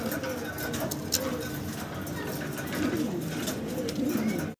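German Beauty Homer pigeons coo in soft, low bursts under steady background chatter and other bird noise.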